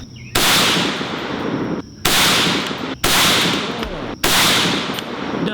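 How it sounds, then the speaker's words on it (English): Four loud, separate shots from a Springfield Armory M1A Scout/Squad battle rifle on an outdoor range, fired at a steady pace roughly a second apart. Each sharp crack is followed by a long, ringing echo. "Let's put a few more rounds down,"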